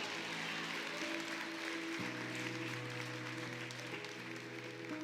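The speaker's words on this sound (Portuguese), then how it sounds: "Bata palmas e glorifica esse Jesus." Steady applause from a church congregation, a continuous wash of clapping with a sustained musical tone underneath.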